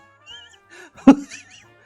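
A cat in The Sims video game meows a few times, short tonal calls with a sharper cry near the middle, fairly close and clear with no talking over it.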